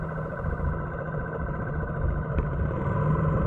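A vehicle engine runs steadily nearby, a continuous low mechanical drone with a brief clatter partway through.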